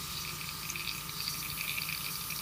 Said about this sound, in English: Do a little more back flushing.